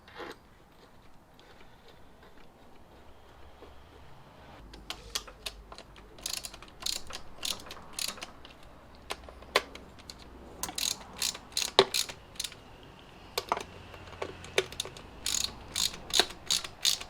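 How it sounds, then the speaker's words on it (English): Ratchet tightening cam cover bolts on a VW T4 2.5 TDI engine, a faint rhythm of quiet clicking in short runs of rapid ratchet clicks with pauses between, nearby in a quiet workshop. "I'm just going to screw those in place."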